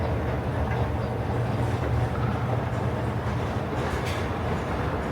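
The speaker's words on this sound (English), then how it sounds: "The train just came into the station." A Metro Gold Line train pulls into the pagoda-styled Chinatown station in Los Angeles at night, a steady close rumble of wheels and motors filling the whole stretch with no voices.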